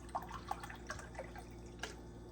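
Water poured while making matcha at home, faint soft trickling and dripping splashes over a low steady hum, quiet and close.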